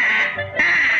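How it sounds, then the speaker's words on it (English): A cartoon goose practicing its honk lets out a loud, continuous nasal honking call lasting about a second, with a brief dip in the middle, heard alone without talk. "The little goose was practicing his honk."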